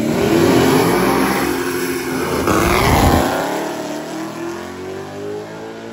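Engines roar loudly at close range on a wet drag strip as a Chevrolet S10 and a Mustang launch in the rain. The sound swells, then fades as the cars pull away down the track. Nobody speaks.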